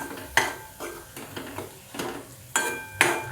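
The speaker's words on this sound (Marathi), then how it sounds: "तेल सुटेपर्यंत चांगला परतून घ्यायचा" Spiced masala for dry mutton sautéed in oil in a pan, with a spoon scraping and knocking against the metal in irregular strokes over a soft, steady sizzle.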